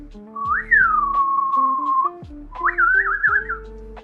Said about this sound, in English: I can whistle pretty decently